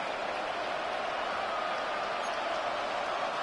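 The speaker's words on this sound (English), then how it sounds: "A big play here as the crowd noise rises." A steady, dense stadium crowd roar fills a Madden 26 football video game, a constant wash of noise at even loudness throughout with no other sounds standing out.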